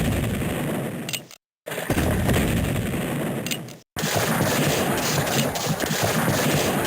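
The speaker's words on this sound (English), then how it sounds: "And he opens up the morning with cannon fire." Cannon fire in the Civil War Generals 2 video game: sustained booming artillery blasts, loud and dense, broken by two abrupt moments of silence before the barrage resumes, with no talking.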